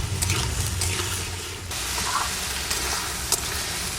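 Potatoes frying in a pan with salt and split green chillies sizzle steadily up close, with stirring scrapes and a brief louder clatter near the end.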